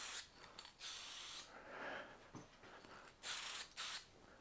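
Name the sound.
spray painting Honda CT110 motorcycle parts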